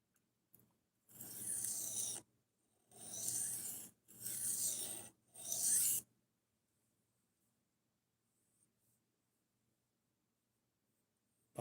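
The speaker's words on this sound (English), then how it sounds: "I'm not done sharpening." A knife is drawn across a sharpening stone in four separate strokes of about a second each, close and crisp and evenly spaced, followed by near silence.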